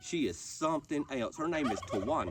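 A tame turkey gobbler in a small backyard flock gobbles in the background, with loud, close speech running over it for most of the stretch.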